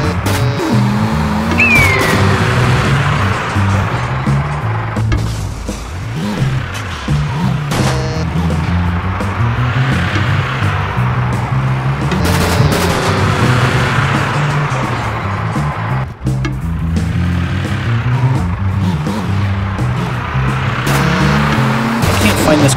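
A car driving hard in a video game, its engine droning and revving continuously with tire squeals, loud and up close, while voices talk over it throughout; the crash through dock gates is not clearly distinct.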